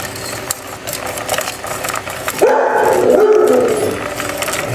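Stella the dog lets out a drawn-out, howling vocalization in a home kitchen, rising over a steady mechanical whir from a mixer or appliance running throughout.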